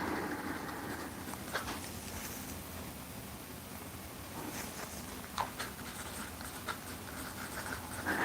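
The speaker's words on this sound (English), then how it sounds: "I'm going to write these down because I have to." Pen scratching across paper while notes are written by hand, soft and close, with light irregular strokes and a few small taps over a quiet background hiss.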